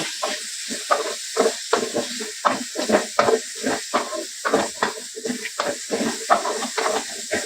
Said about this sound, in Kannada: 1 ಸ್ಪೂನ್ ಎಣ್ಣೆ ಹಾಕೊಂಡು ಚೆನ್ನಾಗಿ ಫ್ರೈ ಮಾಡ್ಕೊಳ್ಳೋಣ.